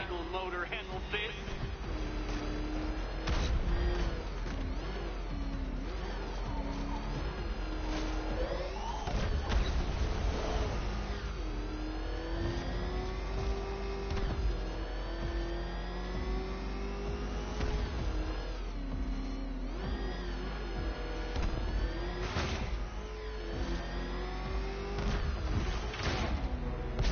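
Batmobile engine in Batman: Arkham Knight, a continuous loud drone that climbs and dips in pitch as it revs, mixed with crashes and thumps, while a voice talks over it.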